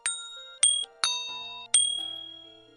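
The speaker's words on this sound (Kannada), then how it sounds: "ಆ ಪ್ರದೇಶದಲ್ಲಿ ಆಗಾಗ ಗಂಟೆಯ ಸಪ್ಪಳವೂ ಕೇಳಿಬರುತ್ತಿತ್ತು" Four struck bell tones ring out one after another, each a bright metallic strike with a sustained shimmering decay, heard clearly and alone with no voices.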